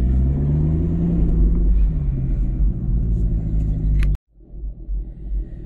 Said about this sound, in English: rev it up a little bit, let your clutch out slowly,